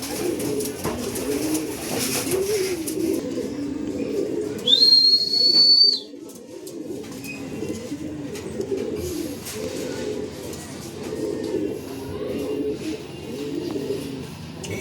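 Racing pigeons arrive at the loft after a derby race in Gumaca, Quezon, with repeated low cooing and fluttering close by. A short whistle sounds partway through, and a voice can be heard faintly in the background.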